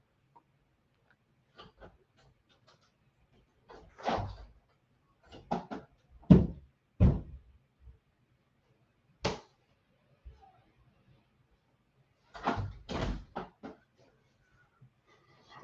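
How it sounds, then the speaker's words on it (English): A door being pushed shut indoors, with a few sharp knocks and thuds in a scattered sequence, moderately loud against near silence. "Let me close my door."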